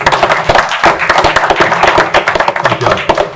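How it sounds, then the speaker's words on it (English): Audience applause at a county commissioners meeting, a dense, loud burst of many hands clapping steadily for about three seconds, with faint voices mixed in. "if y'all wouldn't mind joining me in a round of applause for these gentlemen right here"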